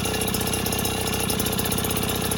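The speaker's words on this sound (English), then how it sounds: "hearing a little piston chatter" A small Yamaha QT50 moped engine idles steadily, close up, with a fast rattling tick of piston chatter running through its even hum.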